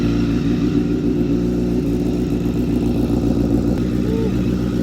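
A Honda CBR motorcycle engine runs right after a cold start, giving a loud, steady, close rumbling idle with no voices.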